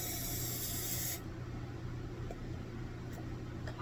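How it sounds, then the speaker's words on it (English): Olive oil cooking spray hisses into a mug in a home kitchen, one sustained spray for about a second before cutting off to quiet room tone. "So we're gonna take our olive oil cooking spray."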